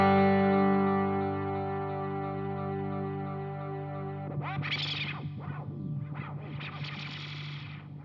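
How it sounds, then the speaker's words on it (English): NUX Atlantic delay pedal pushed into self-oscillation with the repeats cranked: a dense sustained tone swells and fades, then rising and falling whooshing sweeps of echoing feedback pile up, loud and alone. "You can see that it goes into self-oscillation when you crank it up."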